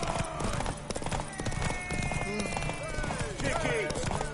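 In The Witcher III: Wild Hunt, rapid hoofbeats clatter in a galloping rhythm, with a horse whinnying and voices talking over the busy, dense mix.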